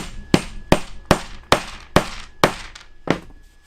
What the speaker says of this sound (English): So make sure that they're hammered all the way down and true down in there.